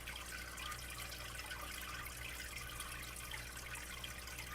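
Faint, steady wash of running water, a continuous hiss with a low background hum and no voices.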